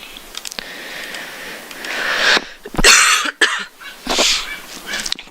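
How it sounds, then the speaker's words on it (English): A person coughs several times in short harsh bursts, close and loud, with brief quiet gaps between the coughs. "Please excuse if I cough every now and then."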